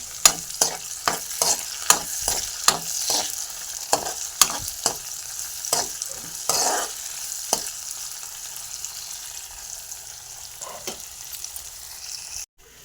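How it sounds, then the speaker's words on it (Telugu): Okra with onions and green chilies being stirred in a frying pan: a steady sizzle broken by a regular series of sharp spoon scrapes and taps, close and clear, fading near the end. "బెండకాయ ముక్కలు కూడా వేసేసుకున్నాం కదా, కలబెట్టుకుందాం"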